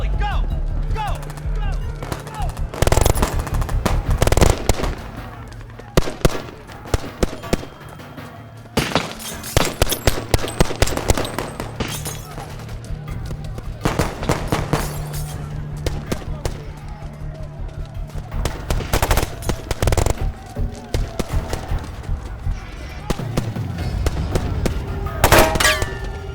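Covering gunfire in a war film erupts in repeated bursts of sharp, loud shots with short pauses between volleys, under shouted voices and battle noise.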